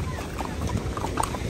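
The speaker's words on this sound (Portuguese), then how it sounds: "Cavalo." Horse hooves clip-clop at a steady pace while riding out with a group near a bridge, close and fairly loud over background noise, with a voice speaking briefly.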